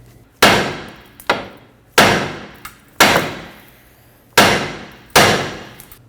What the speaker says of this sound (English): I'm going to strike the knuckle with a hammer until the tie rod drops down.